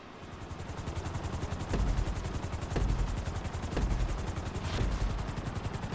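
A helicopter in the video game Grand Theft Auto V, its rotor thumping in a steady, rapid chop with a whooshing engine drone, holding at an even level with no voices.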